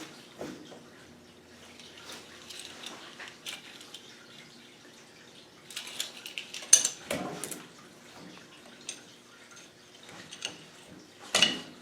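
A spanner tightening a bolt during repair work on a Ghana 110 motorcycle: scattered metallic clicks and ratcheting taps, close by, with a couple of louder clanks near the end.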